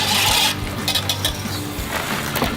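A pot of mac and cheese sits over an open fire as milk is stirred in, with a loud pouring rush at first, then repeated close scraping and clinking of a spoon against the pot.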